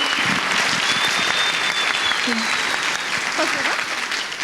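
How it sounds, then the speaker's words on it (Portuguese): Sustained applause fills a conference hall at an in-person event, steady and loud throughout, with a few voices calling out briefly over the clapping. "eu queria também pedir uma salva de palmas para você e pela sua coragem"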